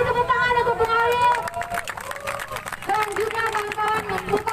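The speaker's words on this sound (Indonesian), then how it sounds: "Kita beri tepuk tangan untuk Bung Khalil." Crowd at an outdoor political rally clapping for a speaker, brief scattered applause mixed with shouting voices and chatter.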